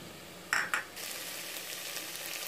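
Onions sautéing in a pan for beef vindaloo give a steady, moderate sizzle, broken near the start by two brief louder scrapes or clinks of a utensil against the pan.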